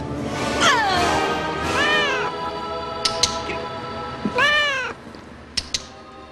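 A cat meows in a scene from the Disney movie Hocus Pocus, giving several drawn-out, bending cries close by with short gaps between them, over low background noise and a few faint clicks.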